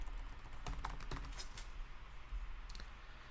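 Computer keyboard typing while a business tax election form is filled in, a quiet burst of clustered keystrokes with irregular rhythm, heard close and alone against a faint low hum.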